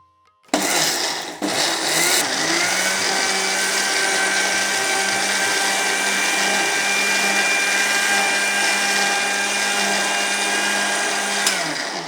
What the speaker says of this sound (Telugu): ఇప్పుడు ఇవన్నీ జార్లో వేసుకున్నాం మనము. వీటిని గ్రైండ్ చేసుకుంటున్నాం.